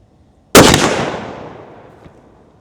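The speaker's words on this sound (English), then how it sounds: "Send our first shot." A single rifle shot fired while zeroing a scope, a sharp, loud crack up close followed by a long decaying echo rolling away across the range, with no voices.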